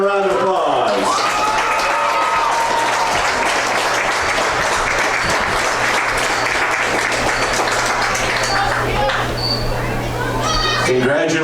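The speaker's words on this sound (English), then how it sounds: "Please give them a round of applause." Outdoor crowd at a high school football game applauds the homecoming king and queen, loud dense clapping mixed with children's voices and chatter, over a steady low hum from the public address system.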